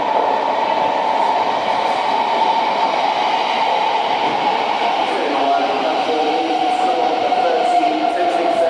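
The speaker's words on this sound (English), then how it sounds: "Here is our train taking us to London Bridge." A train pulling in for London Bridge on a Zone 1 London route, its steady loud rumble and rolling rail noise filling the whole stretch, with a tonal hum emerging toward the end.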